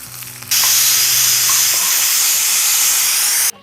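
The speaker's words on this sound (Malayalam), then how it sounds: "കരിവേപ്പില ഇട്ട് 4 ഓളം വെളുത്തുള്ളി ഇട്ട് മൂക്കട്ടെ" Curry leaves and garlic hit hot oil for Kerala sambar, bursting into a sudden loud, hissing sizzle that holds steady for about three seconds and then cuts off.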